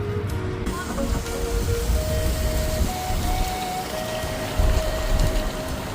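Autumn rain falling as a steady, dense wash of noise that runs unbroken throughout, with low rumbling underneath and no clear voice.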